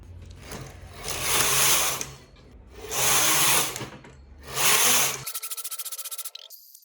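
A knitting machine carriage works sweater sleeve rows in three long rasping passes, each swelling and fading, followed by a rapid ticking rattle.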